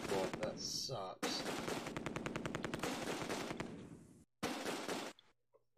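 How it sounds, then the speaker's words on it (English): Bursts of machine gun fire ring out in the Close Combat 2 war game, rapid repeated cracks in long strings broken by short pauses, loud and close. "BAR rifle team taken out by single machine gunner."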